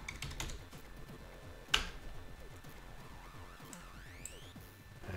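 Password typed on a computer keyboard during Raspberry Pi 4 setup: a quick run of light key clicks with one sharper tap, close and fairly quiet, with faint electronic tones in the background and no talking.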